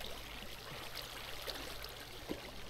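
A Minecraft waterfall rushes in a steady, even hiss of flowing water, continuous and moderately quiet, with no clear breaks.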